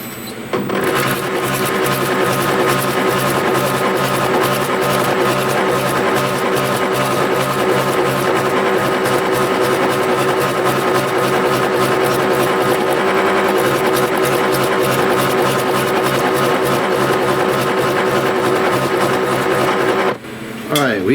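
Hot rod power hammer shrinking a steel panel into a wheel well shape, a rapid continuous mechanical pounding, loud and steady for about twenty seconds before stopping abruptly.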